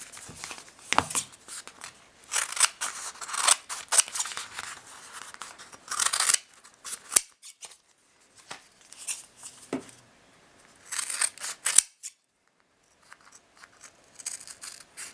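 Scissors snip through paper-backed shibori silk embroidery for beaded earrings, in bursts of close, crisp cuts separated by short pauses, with no talking.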